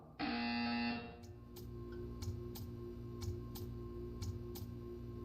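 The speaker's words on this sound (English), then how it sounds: "When you hear the buzzer, stare at the art." A loud buzzer in the video game Portal 2 blares for about a second, followed by faint ticking beeps repeating roughly once per second over a steady low hum.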